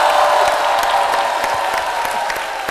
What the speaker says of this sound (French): Notre maestro national que je vous demande d'applaudir encore très très fort